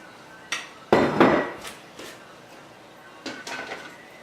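Dishes handled on a kitchen counter while cooking chicken, giving a few separate clinks and knocks with one louder clatter near the start, heard alone at close range.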